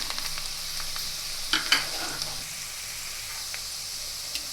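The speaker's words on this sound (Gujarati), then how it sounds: "અને હવે આપણે 2 થી 3 સેકન્ડ માટે લસણને તેલમાં સાતળવા દઈશું" Chopped garlic sizzles in hot oil, a steady bright frying hiss with a few sharper crackles and stirring knocks, close and alone.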